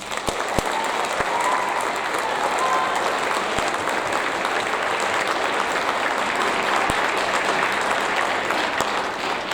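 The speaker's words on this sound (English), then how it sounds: "last round of applause." Continuous audience applause at a 7th grade awards ceremony, dense even clapping from a crowd sustained for nearly ten seconds with occasional louder nearby claps.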